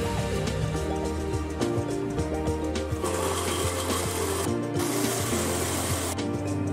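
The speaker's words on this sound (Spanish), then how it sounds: "Agregamos la pulpa, mucho cuidado. Le agregamos la taza de leche y con esa la vamos a licuar." Blender whirring steadily as it blends lulo pulp with a cup of milk, a loud continuous motor drone with a grinding mechanical edge throughout, no talking.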